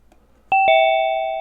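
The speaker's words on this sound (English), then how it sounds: "The doorbell has rung." A doorbell chimes two clear, close tones, a quick ding-dong, and the second note rings on and fades in a quiet room.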